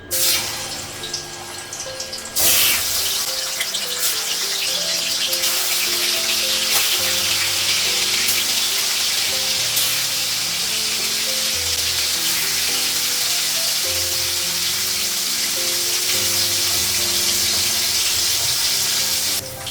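Rohu fish pieces coated in turmeric, salt and chilli powder frying in oil, a loud, close, sustained sizzle that swells sharply when the fish goes in and keeps crackling steadily throughout.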